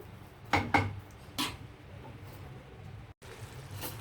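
A spoon clinks and scrapes against a pot while ridge gourd prawn curry is stirred. A few quick metallic taps come close together, then a softer knock, over a low simmering hiss.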